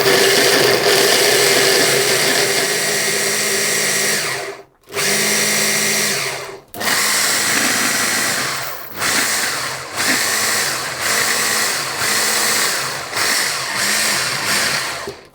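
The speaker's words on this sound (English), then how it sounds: "so I'm going to grind it, and grinding it with the sugar prevents the almonds from forming into a paste" A grinder whirs loudly as it grinds almonds with sugar, starting with one long steady run, then breaking into a series of shorter pulses separated by brief stops, close and alone without talking.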